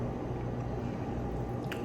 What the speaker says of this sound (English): So I'm just going to pour it around.